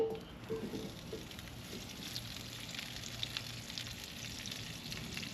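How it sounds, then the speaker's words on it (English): Potatoes coated in olive oil are tossed in a hot skillet on a kamado grill, giving a faint, steady sizzle and frying crackle with a soft stirring scrape near the start. "Give my potatoes a little toss here because we do have some olive oil on the potatoes."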